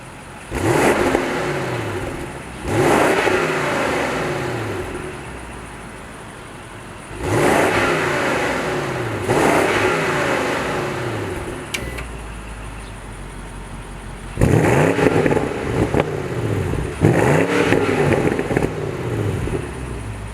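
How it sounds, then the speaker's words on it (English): A BMW M550i V8 is revved repeatedly while stationary, with several loud, sharp bursts that climb and fall back to a steady idle between them, close and alone with no talking. "I'm going to show you guys some revs here, and I'm going to show all these revs in all different modes"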